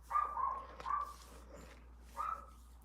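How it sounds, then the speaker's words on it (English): A neighbor's little dogs bark outside, a burst of three or four sharp yaps followed by a pause and one more bark, heard at a moderate distance in a quiet room. "I think my neighbor's dogs is out. They like to bark a lot."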